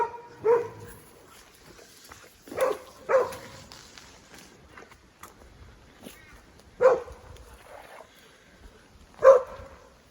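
Three border collies bark in separate sharp bursts, five or so spaced a couple of seconds apart, fairly close, with faint movement between, in wild pig and cattle country.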